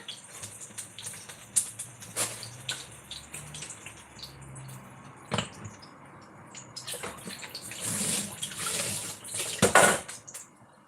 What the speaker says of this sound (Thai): ล้างถ้วยล้างชามก่อนนะคะ